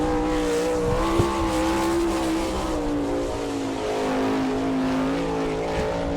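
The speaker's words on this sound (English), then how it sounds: "Your next qualifier comes here from Brewster, Ohio, out in car number 72, the Andrews Racing Machine" A sprint car engine roars steadily through a qualifying lap at Attica, Ohio, for car number 72, the Andrews Racing machine. The engine note is loud and close, rising and falling slightly through the corners, with no talk over it.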